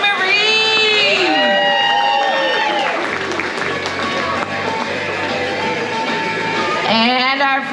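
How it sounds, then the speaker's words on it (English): Applause and cheering from the audience at a pin-up contest in 2025, as the second runner-up is announced. The crowd clapping and shouting stays loud and steady, with voices rising over it and a fresh burst of cheering near the end. "Big round of applause for our 2nd runner-up, Miss Chloe Marie."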